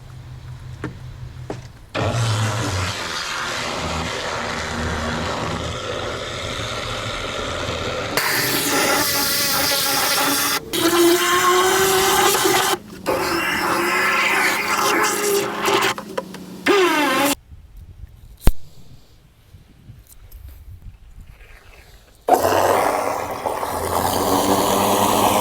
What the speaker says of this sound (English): that way I can blast it with the pressure washer into smaller pieces.